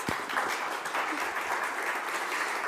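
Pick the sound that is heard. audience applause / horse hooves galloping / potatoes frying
audience applause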